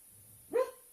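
A sleeping dog named Zéphyr gives one short, strained whimpering yelp in the middle of a nightmare. The single cry rises and fades within a fraction of a second against an otherwise quiet room.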